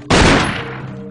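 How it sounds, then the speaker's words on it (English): A single sharp gunshot from the Resident Evil video game cracks out loudly and close, then rings off in a short decaying tail inside a creepy house. "But on my way I heard gunshots."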